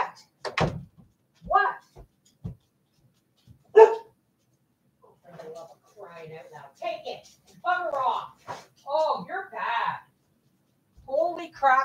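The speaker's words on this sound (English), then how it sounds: "Wonder what the hell she's barking at." A dog barks a few sharp times near the start, then a person talks in short bursts while the room stays quiet.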